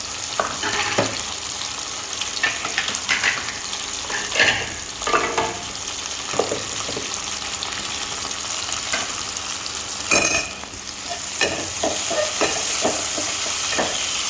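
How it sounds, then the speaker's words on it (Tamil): Onion, okra and green chilli sautéing in a pan for a dried-fish curry, a steady close sizzle broken by repeated stirring scrapes and clatters throughout, with no talking. "வெங்காயம் வெண்டிக்காய் பச்சை மிளகாய் இதெல்லாம் போட்டு நல்லா வதக்கி விடணும்"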